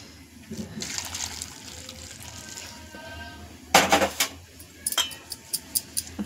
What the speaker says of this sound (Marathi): आता आपण ह्यामध्ये गरम पाणी ओतून घेणार आहोत आणि ते गरम पाण्याने क्लीन करणार आहोत।